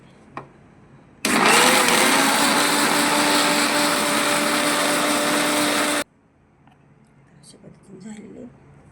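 Mixer grinder grinding a soaked herbal henna mixture, a loud high whirring motor burst lasting about five seconds before cutting off abruptly, with faint sounds before and after.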